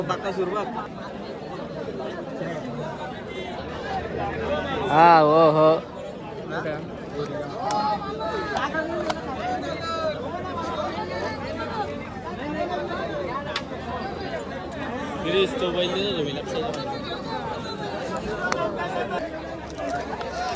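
A large crowd gathered at a bullock cart race in Umbarvede, a dense continuous babble of many voices near and far, with a brief loud shout rising above the chatter partway through.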